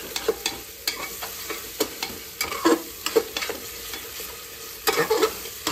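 Chopped tomato is stirred into biryani cooking in a pressure cooker, with a steady sizzle under frequent scraping, clinking strokes of a spoon against the pot, close up and without talk.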